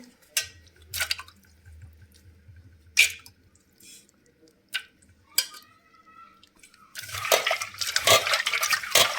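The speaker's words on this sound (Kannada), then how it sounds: "ಇಲ್ಲಿ ಕೊಬ್ಬರಿ ತೊಳ್ಕೊತಿದ್ದೀನಿ" Dried coconut being washed in a bowl for a brinjal and vegetable rice preparation: scattered clinks of utensils and wet handling sounds, then a stretch of running, splashing water near the end, with no talking.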